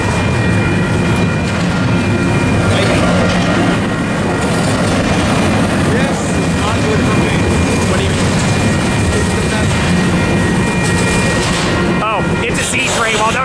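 A train rumbles past close by in the Ontario and Cajon area, loud and steady, with rhythmic clatter of wheels on rails throughout.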